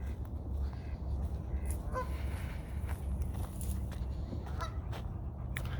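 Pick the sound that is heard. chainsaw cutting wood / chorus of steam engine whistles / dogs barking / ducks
ducks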